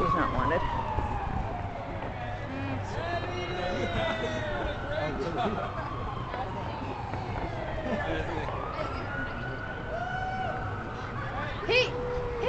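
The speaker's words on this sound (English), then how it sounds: "Hey, ambulance! That was not wanted." An ambulance siren wails and sweeps up and down in pitch through a distant New Year's fireworks scene in Seattle, with occasional pops and people chatting nearby.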